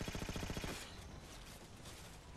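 Gunfire in Halo 4 on Legendary difficulty, a rapid burst of evenly spaced shots for under a second, then a dense rumbling wash of game noise.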